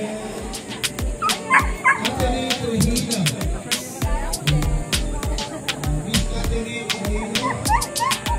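Several dogs snarl, yip and bark in a close, noisy scuffle at an outdoor animal-welfare walk, the growls and yelps overlapping continuously with crowd noise behind.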